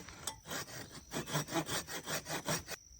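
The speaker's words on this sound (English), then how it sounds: "We can simply take our saw and put a saw kerf in here about 1/3 of the way through the material" A hand saw cuts a kerf about a third of the way into wood for a rope pot crane, with about eight steady back-and-forth rasping strokes, close and fairly loud, that stop abruptly near the end.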